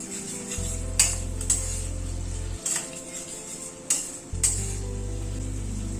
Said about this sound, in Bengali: দইটা দিয়ে একটু নাড়াচাড়া করে নিলাম মিনিট 2 মতো